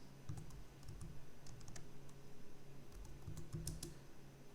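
Quick bursts of typing on a computer keyboard while a summary is written into an AI prompt builder, the clicks steady and close with small pauses, faint and alone with no voices.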